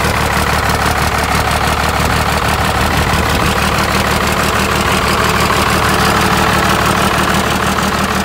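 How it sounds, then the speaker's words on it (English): An engine fitted with a compound turbo setup runs steadily, a loud, close, continuous mechanical roar with a rapid pulsing texture and no pauses, with the turbo spinning. "That turbo's actually spinning,"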